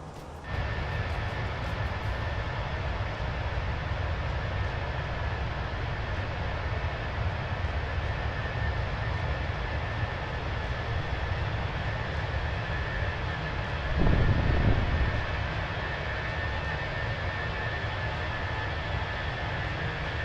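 IAE jet engines on a Fenix A320 airliner in a flight simulator, a steady broad roar with a thin high whine running throughout and a brief louder swell near the end, continuous with no talking.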